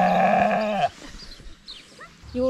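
A young ram lamb on a farm gives a loud, close, wavering bleat. It is followed by quieter rustling and a few faint calls, then a short second bleat at the end.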